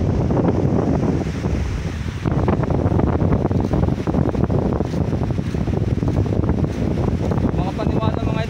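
Ocean surf at very low tide along a shoreline, a steady broadband wash of waves with heavy wind buffeting on the microphone, loud and continuous throughout.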